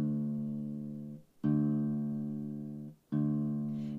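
A guitar string tuned to drop D is plucked with the thumb three times, each note ringing warm and sustained before decaying and being muted, then struck again.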